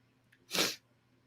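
A single short sneeze, quick and breathy, bursts out against a quiet background.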